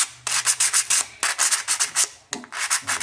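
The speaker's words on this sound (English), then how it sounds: "You're going to sand." Sheet metal for a jewelry finding is sanded by hand to smooth out scratches: quick rhythmic rubbing strokes come in close bursts of several at a time, split by short pauses, with no talking.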